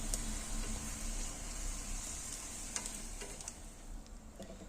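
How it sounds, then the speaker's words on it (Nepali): Prawns frying in hot oil give a steady, faint sizzle and hiss that runs throughout, with a few light stirring clicks and no voices. "अब मैले तार्दै छु प्राउनलाई।"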